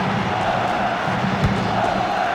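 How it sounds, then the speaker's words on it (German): A stadium crowd in the football video game FIFA 2003 lets out a low, disappointed murmur after a missed shot, a continuous broad rumble with a few scattered shouts. "Ein enttäuschtes Raunen geht hier durch die Zuschauer"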